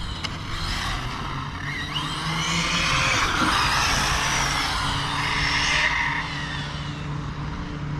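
An FTX Superforza 8S 1400kv RC car drifts on worn tires, giving a sustained squealing skid that swells through the middle over a steady whining motor, loud and continuous for about eight seconds.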